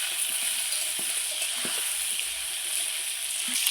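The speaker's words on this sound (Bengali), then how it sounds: "হলুদ লবণ দিয়ে খুব সুন্দর করে আমি আলুটাকে এখন ভেজে নেব" Potato pieces frying in oil with salt and turmeric for a Bengali fish curry, giving a loud, continuous hiss of sizzling with occasional small pops and stirring taps.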